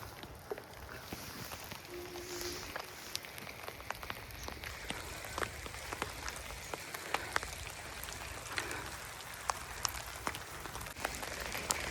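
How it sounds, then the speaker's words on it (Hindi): Scattered sharp taps of hail strike a surface at an irregular rhythm over a faint steady hiss on the Tunganath trek, fairly quiet and with no voices. "देखो ओले गिर रहे।"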